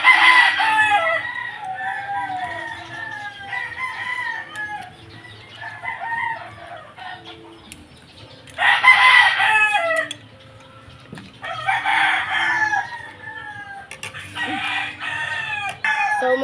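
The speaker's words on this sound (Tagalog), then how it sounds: "maingay po yung mga manok po dito ba" Roosters crow loudly in several bursts while chickens cluck steadily in the background, with a nearby farmyard feel.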